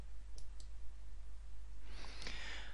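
Mouse clicking on Save in PowerPoint 2013: a couple of quick, faint clicks early, then another soft click after a brief rustle, over quiet room hiss.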